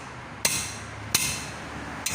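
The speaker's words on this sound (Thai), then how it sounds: "เอาค้อนตีเลย นั่นแหละเคาะไป" A hammer strikes a lower control-arm ball joint on a four-wheel-drive Isuzu, three sharp metallic blows spaced roughly evenly, each ringing briefly, with no voices over them.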